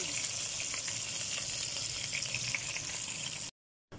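Steady loud sizzle of garlic and aromatics sautéing in leftover oil from fried fish, crackling continuously up close before cutting off abruptly near the end.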